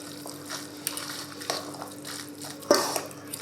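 A fork works through spaghetti carbonara with sauce and smoked tofu, giving soft wet squelches, light scrapes and a sharper clink of metal against the dish near the end.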